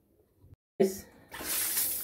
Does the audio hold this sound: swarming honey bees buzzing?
no